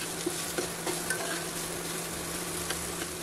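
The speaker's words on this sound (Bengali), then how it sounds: "পেঁয়াজে হালকা বাদামি রং না আসা পর্যন্ত ভেজে নিচ্ছি।" Finely chopped onions frying in a pan until light brown, giving a steady close sizzle with a few soft stirring scrapes and taps, no voices.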